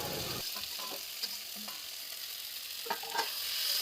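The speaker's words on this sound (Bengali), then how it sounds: "ডিমগুলো দেওয়ার পর কিছুক্ষণ নেড়ে চেড়ে নিয়ে" Eggs frying in oil spiced with garam masala hiss steadily and close by, while a spoon stirs with soft scraping strokes and occasional light knocks on the pan.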